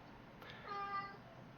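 A single short, soft meow from a cat nearby, faint against a quiet room.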